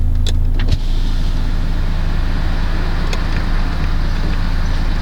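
A Skoda car gives off a steady, loud rumble of engine and road noise, with a brief click near the start and faint higher ticks over the constant drone.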